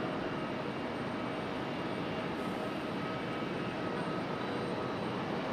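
A jet airliner at Raleigh-Durham International Airport gives a steady, loud engine roar with broad rushing noise, continuous throughout and with no voices.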